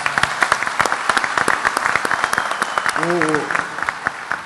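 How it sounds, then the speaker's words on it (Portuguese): Audience applause at an environmental and infrastructure conference in Brazil, a dense, steady patter of many hands throughout, with a brief voice rising through the clapping partway along. "eu queria pedir a todos, primeiro, um aplauso também para o William Vac"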